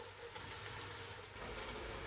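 Onions frying in a pan as the base for a mutton-on-the-bone curry, a steady close sizzle and crackle running continuously throughout, with no talking.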